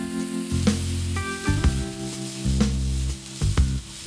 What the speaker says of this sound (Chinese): 倒入豆芽翻炒